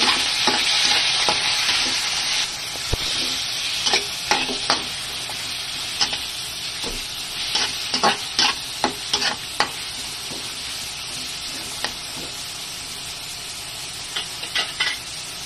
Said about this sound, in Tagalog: So, sutay muna natin yung bawang at saka sibuyas. So, lalagay na natin yung karne.